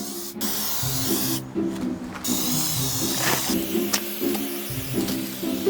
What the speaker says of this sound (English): shake up your can of permethrin and spray your outfit in sweeping motions